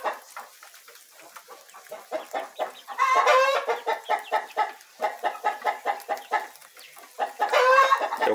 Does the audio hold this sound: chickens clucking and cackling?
yes